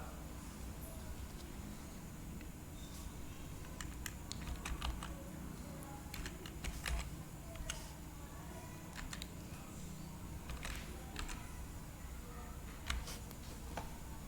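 Rapid typing on a computer keyboard during firewall configuration in Cisco Packet Tracer, with irregular bursts of clicking keystrokes over a steady low background hum, close and moderately quiet.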